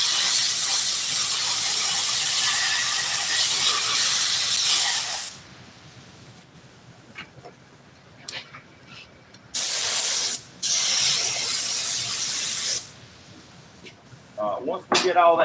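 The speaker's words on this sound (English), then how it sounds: "Spray them cracks to where the cheese cutters has been cutting it." Adhesive sprayed into cracks of a worn 1990s Chevy work truck seat cushion, several loud hissing bursts of a few seconds each separated by quieter gaps with small handling noises.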